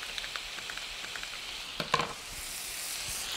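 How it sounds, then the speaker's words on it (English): Fajita vegetables sizzle in a skillet as sauce is poured in, a soft steady frying hiss with a brief louder splash and crackle at the pour, then a brighter sizzle. "Going to add that skillet sauce"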